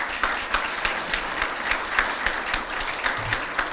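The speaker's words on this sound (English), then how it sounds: "Let's give her a big round of applause." Audience applause fills a hall of fame ceremony, with steady, dense clapping and crisp individual claps punctuating the sustained wash for several seconds, loud and fairly close.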